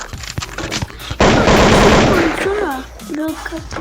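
Automatic gunfire mows down zombies in the mobile shooter Dead Target, a dense sustained burst of rapid shots lasting about a second, followed by someone talking excitedly.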